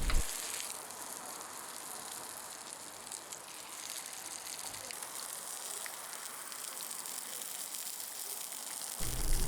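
Pork chops fry over medium heat in a cast iron pan, giving off a constant close crackling sizzle that runs alone and unbroken.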